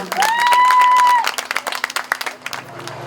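Applause rises from the audience at a devotional night jagran, with loose, uneven clapping under a ringing electronic tone that soon thins into scattered claps.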